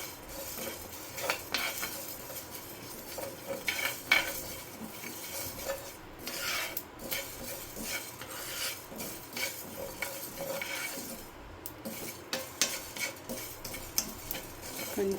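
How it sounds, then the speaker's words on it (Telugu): Coriander seeds and mustard seeds fry in a pan for a prawn pickle, giving a dry scraping and stirring sound with light crackle and clinks of a utensil against metal, continuous and fairly quiet. "ఇవన్నీ వేసి మంచిగా ఫ్రై చేసుకుంటాం."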